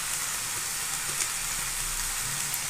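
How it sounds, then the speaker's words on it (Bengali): Mango pieces for a homemade chutney, seasoned with salt and turmeric, sizzle and hiss in a hot pan as they are stirred, a steady close frying crackle with faint scrapes and no talking. "এবার এটা একটু ভালো করে নেড়ে চেড়ে নেব।"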